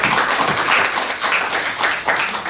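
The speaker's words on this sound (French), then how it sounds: "Merci, on applaudit." Clapping from an audience at a business meetup, fairly loud and close, steady and dense with rhythmic pulses and no clear talk over it.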